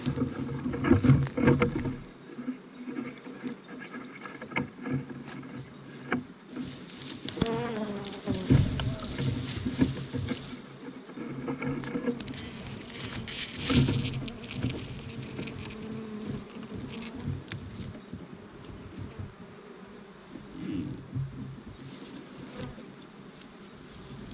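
Bees or wasps buzz around a nest, a continuous close droning hum with wingbeats passing near and away over rustling and handling noise, and no talking.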